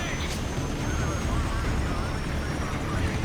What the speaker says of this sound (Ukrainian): І і одного гелікоптера нашого тут підбивають